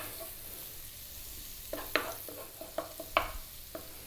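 Sesame oil frying quietly for chicken fried rice, a low soft sizzle with a cluster of brief crackles and taps in the second half, close but faint, with no talking.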